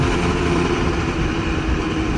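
A big truck's heavy engine rumbles steadily at close range in Bandung, Indonesia, a loud low droning idle with no break.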